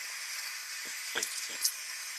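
A McCulloch MC1385 canister steam cleaner hisses steadily and fairly faintly while something is scrubbed, with a few soft brushing strokes and bumps over the continuous steam.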